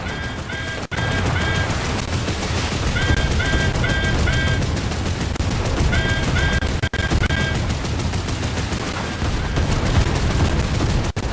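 40mm cannon fire in War Thunder, steady rapid bursts hammering away continuously and loud, with a faint repeating high tone pattern, clicks and no talking.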